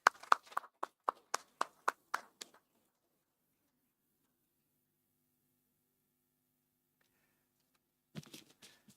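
Audience members at an annual general body meeting of a geoscience society clap in a brief burst of about nine crisp, evenly spaced claps, then silence follows before a voice returns.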